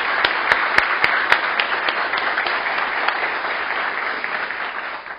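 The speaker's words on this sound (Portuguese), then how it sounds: "eu queria assim uma salva de palmas aí aos nossos 3 fundadores." An audience gives sustained applause to three founders, with a few sharp, distinct claps near the start before the clapping settles into a dense, steady wash that fades slightly at the end.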